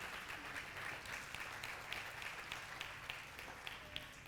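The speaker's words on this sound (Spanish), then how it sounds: "Alguien debería darle un aplauso a Jesús en este lugar" A church congregation applauds, a faint, distant wash of many hands clapping that continues steadily throughout.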